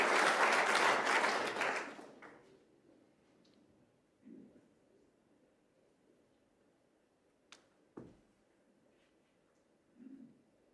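A snooker crowd at the World Seniors 2024 applauds a shot, a loud burst of clapping that quickly fades into a quiet hall, followed by a few sparse, sharp knocks.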